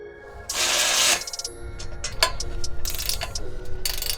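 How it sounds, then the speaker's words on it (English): Ratchet tightening exhaust bolts on a 2024 Toyota Tacoma, a loud burst of rapid clicking followed by scattered metallic clicks and clanks, close up with no talking. "We are now ready to tighten all the bolts."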